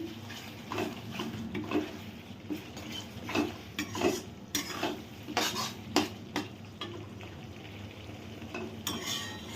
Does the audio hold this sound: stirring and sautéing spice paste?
yes